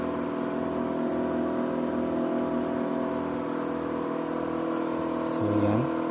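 A turbocharged Caterpillar 3406 diesel truck engine rated at 411 horsepower runs at a steady idle, giving a constant droning hum with a faint whir, loud and close.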